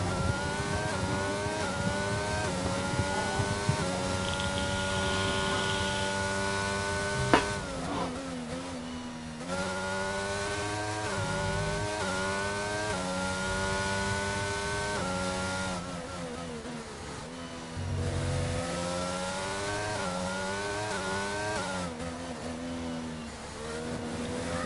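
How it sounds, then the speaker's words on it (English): A sim race car engine screams through a hot lap at a Portugal sprint round, rising through the revs with sharp gear shifts and lifts, loud and continuous onboard with no talk. "We'll jump on board with him and let you enjoy a bit of engine sound."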